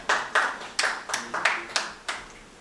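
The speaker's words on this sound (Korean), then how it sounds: "수상하신 모든 분들께 다시 한번 큰 박수 부탁드리겠습니다" Audience at the 35th national welfare convention for people with intellectual and developmental disabilities claps for award winners: eight or nine distinct, fairly close claps in an uneven rhythm, each sharp and quickly fading, with no talk.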